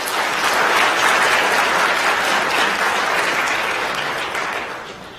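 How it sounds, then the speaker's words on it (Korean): A church congregation at a Sunday worship service on Christmas Day applauds to welcome a newly baptized member, with dense, sustained clapping from many hands that swells and then tapers off at the end. "여러분들 환영의 박수 부탁드리겠습니다."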